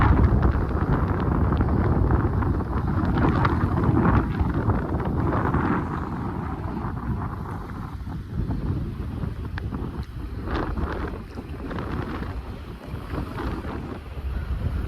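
Wind blows over Guelph Lake in cloudy weather, a continuous rough rush that buffets the microphone and has a watery wash underneath. No voices are heard.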